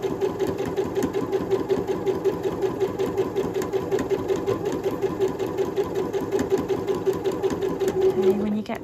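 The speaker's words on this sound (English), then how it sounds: "the sewing machine wants to drag your fabric through in a nice straight line" A sewing machine stitching fabric for a homemade face mask, running in a steady rapid mechanical chatter throughout, with a person talking over it.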